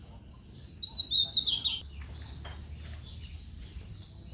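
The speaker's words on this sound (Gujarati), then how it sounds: "અહીં સવારમાં ખૂબ સુંદર પક્ષીઓનો અવાજ સાથે" Birds chirp in the morning among trees and plants in a garden setting: a thin, high twittering phrase rises briefly and then fades, faint and distant over steady low background noise.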